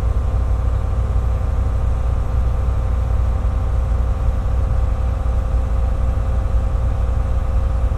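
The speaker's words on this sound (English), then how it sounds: "This is just purely Jake brake." Truck descending the Rockies in seventh gear at about 1900 RPM with the Jake brake engaged and service brakes untouched: a steady, loud low-pitched engine drone and rumble holding constant throughout.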